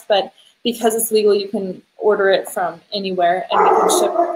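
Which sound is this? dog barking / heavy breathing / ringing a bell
dog barking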